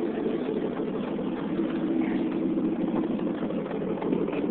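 A 1952 Chevrolet engine idling after a cold start, no muffler fitted, giving a steady, even low rumble at moderate distance that holds without revving.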